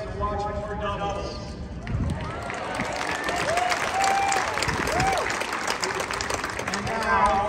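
A crowd applauds steadily with some cheering at a professional women's tennis doubles final, while an amplified voice is heard over the clapping.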